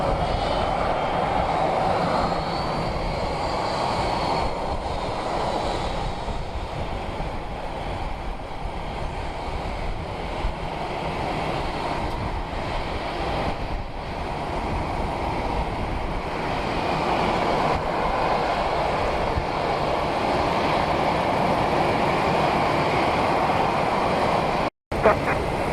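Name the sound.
airplane taking off at Palm Beach International Airport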